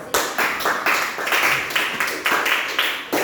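A class in an Indonesian social studies lesson claps together in a rhythmic, unison pattern, sharp bursts of hand claps repeating at a regular beat, fairly close and loud, with no talking.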